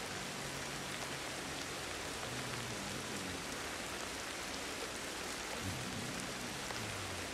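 Steady rain pours in the survival game Ancestors, a dense, even hiss of drops hitting surfaces that fills the whole stretch without pause or voices.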